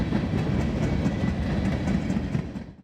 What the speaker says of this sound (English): we're pacing alongside a real train right within a couple 40 or so feet of us